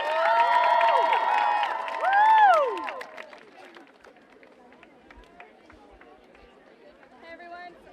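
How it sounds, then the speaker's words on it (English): A climate strike rally crowd cheers and whoops loudly with high shouting voices, then fades into scattered applause and murmuring chatter. "Everyone give a round of applause to Maddie."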